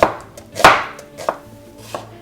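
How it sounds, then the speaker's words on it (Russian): A knife cuts through an onion into thin half-rings on a board in a few separate crisp chops, spaced unevenly, close and clear with no voices. "Лучок нарезаю тонкими полукольцами"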